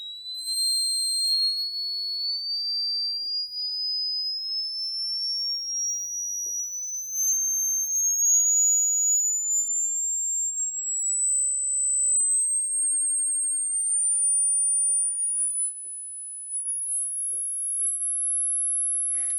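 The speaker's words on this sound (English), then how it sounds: "I'll stick the signal generator on it, and hopefully it's okay" A signal generator tone played through a Celestion Ditton 332 loudspeaker, a pure steady whistle sweeping slowly upward in pitch for the whole stretch, with faint harmonics and a few tiny clicks near the end.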